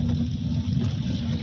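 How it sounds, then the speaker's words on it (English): A steady, low rumble from an air-cooled Volkswagen Beetle engine runs throughout with a constant drone and faint wind noise, no variation in pace. "A Volkswagen. Can you hear the engine?"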